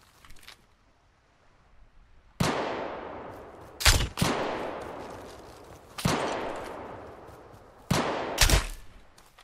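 Crossbow shots in a video game fire in sharp bursts, each followed by a decaying whoosh; about four loud shots spaced a couple of seconds apart.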